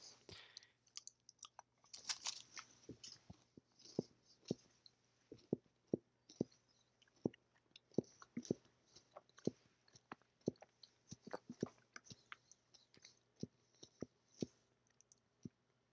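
A crackle chocolate bar being bitten and chewed close up, with a steady run of sharp crunchy clicks and quieter mouth noises over several seconds, mostly alone at low volume.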